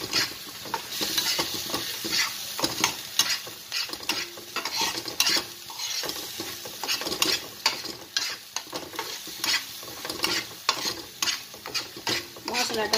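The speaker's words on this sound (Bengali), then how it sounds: "এইরকম হালকা ভেজে পুরোটা আমি দিয়ে দেবো।" Spice masala for a surmai (kingfish) curry fries lightly in a pan, a steady close sizzle broken by frequent scraping stirring strokes, with no talking.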